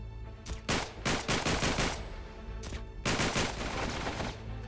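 Gunshots in the video game Uncharted 3: two loud bursts of rapid automatic fire, the first of about eight shots and the second a shorter volley, with game ambience continuing underneath.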